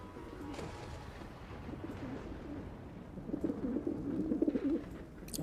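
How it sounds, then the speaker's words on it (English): Pigeons cooing in a Skyrim-style video game, soft throaty coos repeating and growing louder in the second half over a quiet ambient bed, no talk. "Those are some loud pigeons."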